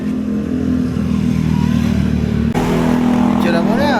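A motorcycle engine idles and revs steadily close by, with a sharp shift in tone partway through and clattering mechanical noise. People chat casually over it.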